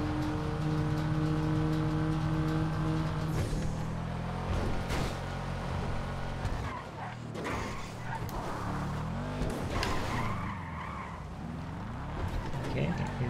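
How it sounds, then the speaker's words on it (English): Sultan Classic car engine in the GTA FiveM racing game, droning steadily and loudly with shifting revs, gear changes and tyre noise, a continuous motor tone throughout with someone talking over it. "This Sultan Classic has done me pretty well,"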